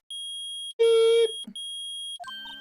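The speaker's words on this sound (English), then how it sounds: "It's beeping! The metal detector found something!" A metal detector in the Phoenix Wright: Ace Attorney video game beeps in steady electronic tones, broken by short chirpy game sound effects.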